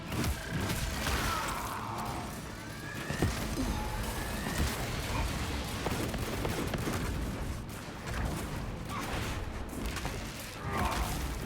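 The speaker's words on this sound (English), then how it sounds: "Frag grenade deployed." Frag grenade going off amid heavy Space Marine 2 combat: continuous gunfire and booming blasts in a dense, loud battle mix, with no clear single isolated detonation.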